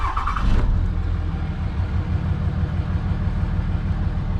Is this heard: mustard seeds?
no